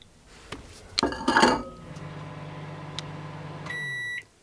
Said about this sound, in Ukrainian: Ставимо підігріватись мікрохвильовку на 30 секунд.